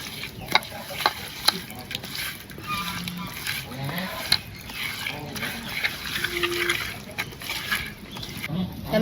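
Hot cooking oil sizzles steadily in a pan in a village kitchen, a close, moderate hiss with occasional soft clicks and clatter, while a voice speaks intermittently over it.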